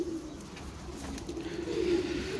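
A golden male pigeon coos low and steadily at close range, its throaty calls running continuously over faint background noise.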